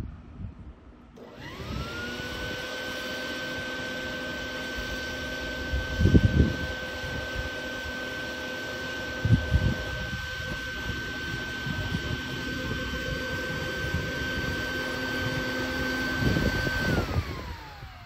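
A bee vacuum starts up and runs as a steady, loud motor whine for several seconds, sucking honey bees through a tube into a box, with occasional bumps and rustles over the drone before it winds down.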